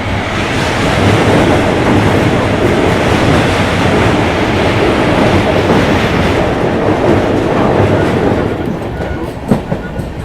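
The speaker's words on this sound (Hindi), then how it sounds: "तो वो देखो भाई साहब अपनी डिब्रूगढ़ राजधानी एक्सप्रेस आ गई है।" An Indian Railways train, the New Delhi–Dibrugarh Rajdhani Express number 20504, thunders past on a crossing with another train, a loud, sustained rumbling roar with faint rhythmic wheel clatter that eases slightly near the end.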